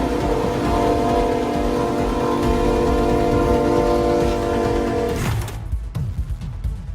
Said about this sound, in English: It's just a train powering through snowdrifts.